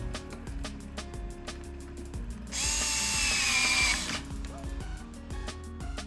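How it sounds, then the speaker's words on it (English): A power drill drives screws to mount IKEA FRIDANS roller blind holders, a short high whir of about a second and a half standing out over quieter handling and clicks. "Fixing remaining screws."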